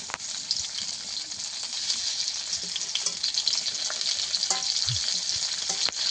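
Okra frying in hot oil in a pan, a loud, dense, continuous hiss of sizzling that stays close and even for the whole stretch, with small crackles and no speech.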